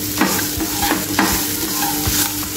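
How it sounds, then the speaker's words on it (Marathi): A spoon stirs and mashes a sweet-sour spicy matar kachori pea filling in a hot pan, with rhythmic scraping strokes over a continuous close sizzle. "आता हे छान असं मिक्स करून घ्यायचं आहे."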